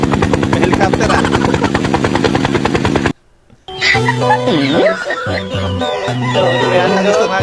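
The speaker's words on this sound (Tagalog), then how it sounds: "May helicopter ah." A helicopter's beating rotor fills the first three seconds loudly and steadily, then cuts to a brief near-silence before music and voices take over for the rest.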